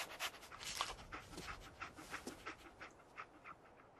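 A dog companion in the video game Fallout 4 pants rapidly in short rhythmic breaths with soft whimpers, close and fairly quiet, no talking over it.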